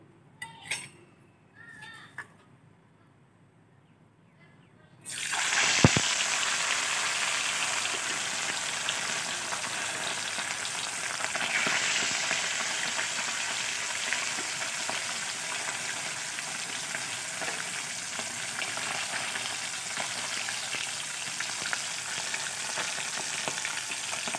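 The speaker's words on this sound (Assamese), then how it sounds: "তেলখিনি গৰম হোৱাত মই এতিয়া মাছখিনি দি দিম।" After a few quiet seconds, a loud sizzle bursts out and settles into a continuous crackling hiss as fish fries in hot oil for a fish curry.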